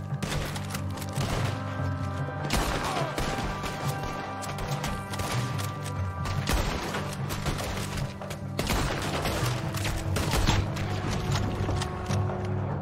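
Gunfire crackles in a fight on Guarma in Red Dead Redemption 2, with repeated sharp shots and volleys over a steady musical drone and a rhythmic clopping patter throughout.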